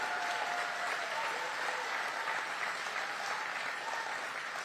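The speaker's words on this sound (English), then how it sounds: "Let's give Secretary Loeffler a big round of applause," Steady applause from a large crowd at a political event in metro Atlanta honoring Secretary Loeffler, a dense continuous wash of clapping with no talk over it.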